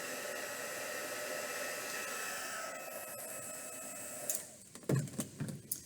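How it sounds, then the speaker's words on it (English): A heat gun blows steadily, melting powder into glossy plastic in a craft project. Its constant airy whoosh holds for several seconds, then cuts off and is followed by a few light handling knocks. "I always love using that heat gun"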